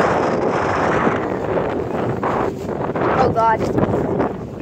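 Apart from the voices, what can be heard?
strong wind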